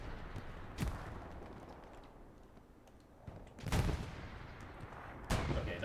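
Video game battle with a grenade blast and gunfire: three sharp, loud explosive bursts spaced a couple of seconds apart over a low rumbling background, with a voice faintly present.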